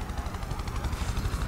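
A helicopter's rotors thump in a rapid steady pulse over a low engine drone in the video game Prototype 2, a brief sustained burst with no talk.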